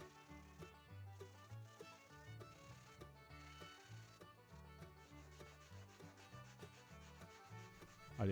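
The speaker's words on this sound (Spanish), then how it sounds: "Ahora es el momento de hacer un nuevo lijado." Sandpaper rubs by hand over a coconut shell bowl coated with hardened filler, producing faint, rhythmic back-and-forth scratching strokes in quick succession.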